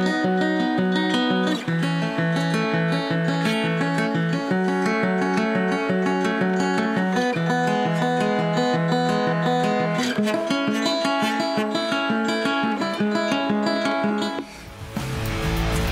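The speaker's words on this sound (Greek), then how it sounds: "Η κιθάρα ηχογραφήθηκε σε ένα στούντιο, είναι ακουστική κιθάρα και ακούγεται κάπως έτσι." Studio-recorded acoustic guitar plays a steady, busy pattern of ringing notes and chords, loud and close, continuing without pause before fading out near the end.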